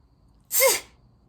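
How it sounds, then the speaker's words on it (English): A single sharp sneeze bursts out close to the microphone, brief and loud against near silence. "Wait, I'm gonna sneeze."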